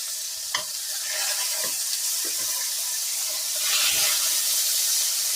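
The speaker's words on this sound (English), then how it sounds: "I know it's kind of hard to hear me over that sizzle" Fresh sausage browning in a pan for Cajun rice and gravy gives a loud, steady sizzle that crackles and swells slightly near the end, with a few soft knocks of stirring and no voices.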